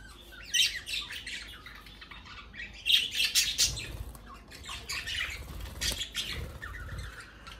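Pet parrots squawk and chirp in bursts close by, loud harsh calls rising and falling over several seconds with a steady low background hum between them.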